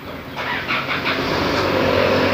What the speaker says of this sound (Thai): ต่อสายเสร็จอ่าเราก็จะทำการสตาร์ทเครื่องยนต์นะครับ